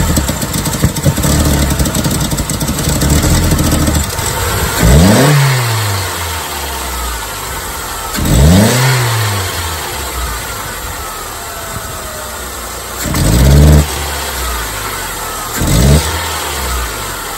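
A 1999 Saturn SC1 with the SOHC engine and a lean fault from a bad fuel pump idles, then revs hard four times, each burst of gas climbing and falling back to a rough idle.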